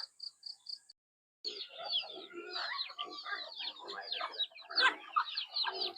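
Backyard chickens cluck nearby: a few short, high chirps, a brief silence, then a busy overlapping stream of clucks and murmuring calls.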